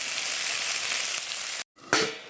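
Taro pieces frying in a pan with salt and turmeric, a close, steady hiss of oil that cuts out briefly and then returns with a scrape of stirring.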